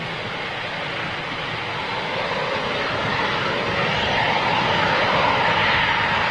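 A Eurofighter Typhoon jet of 11 Squadron at RAF Coningsby roars as a broad, steady engine rush that slowly grows louder, heard at a distance with no other sounds over it.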